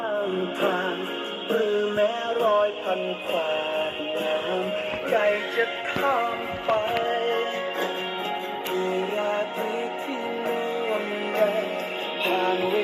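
Music with a steady melodic line plays through a small Sony SRS-T100PC USB speaker, sounding slightly thin and band-limited, continuous throughout at moderate loudness.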